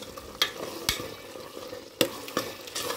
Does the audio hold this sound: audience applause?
no